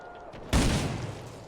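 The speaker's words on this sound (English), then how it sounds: "they're still firing AT rifles" A single sharp anti-tank rifle shot in a World War II game cracks out as one loud, abrupt blast and then tails off into a short rumble over faint background ambience.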